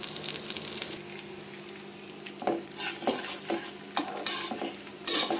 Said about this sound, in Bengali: রসুনটা এখন ভাইজা নিচ্ছি আমি